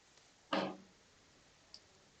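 A single crisp mouse click is heard while a Continue button is pressed on an online income tax return form, followed by a faint second tick in an otherwise quiet room.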